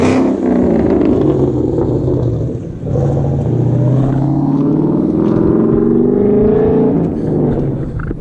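A supercharged 2015 Mustang GT with Roush axle-back exhaust revs loudly nearby, its engine note rising and falling with a deep rumble, a brief dip midway, then a sustained climbing roar.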